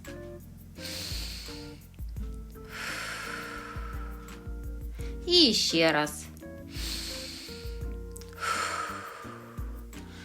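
Young children in a preschool class blow out breaths to roll a pencil across a table, several breathy puffs and snorts repeated in bursts amid a teacher's instructions and background classroom noise.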